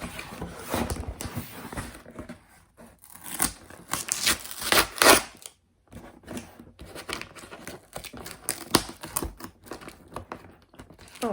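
The box packaging of a new Coach Sutton crossbody handbag is pulled open with close, crackling tears, rustles and scrapes that come in uneven bursts, broken by a brief silent gap.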